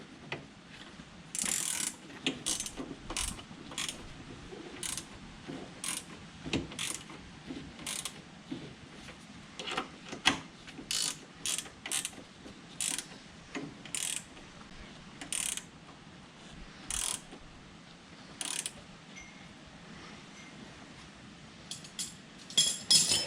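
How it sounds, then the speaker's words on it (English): Ratcheting wrench clicks in repeated bursts while 13 mm bolts are tightened on a John Deere three-point hitch, with short pauses between runs of fast, close, crisp ticking and no talk. "Now we just got to tighten everything up. So like I said, 13 millimeters."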